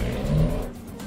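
A car passing by in Euro Truck Simulator, a brief low engine whoosh that swells and fades within about a second, with no talk over it.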